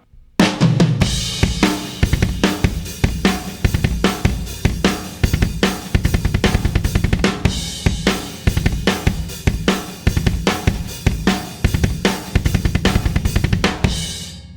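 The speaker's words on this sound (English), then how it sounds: "this is what the verse riff for drums sounds like" A rock drum kit pounds out the driving verse beat of a song, dense with cymbals, kick and snare, loud and continuous.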